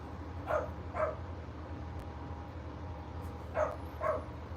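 A puppy barks indoors, two pairs of short sharp yaps separated by a pause, faint and somewhat distant over a quiet background hum.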